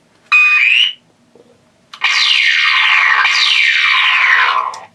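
Stun-setting sound effect from a Blast-FX E-11 toy blaster: a short warbling electronic chirp, then after a pause two long repeated downward-sweeping zaps, loud and close with no talk.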